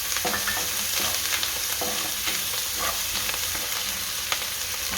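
Curry leaves and garlic frying in hot oil, giving a loud, dense, unbroken sizzle and crackle close by, with faint stirring scrapes and no speech.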